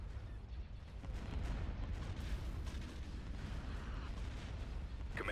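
Ion cannon fire in the space strategy game Star Wars: Empire at War comes as dense, rumbling booms and bursts in a continuous low barrage of battle noise.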